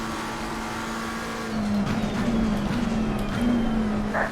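A race car in a team race drones along steadily, then its engine note swells and wavers as it drives past nearby, with a fairly loud, sustained motor tone.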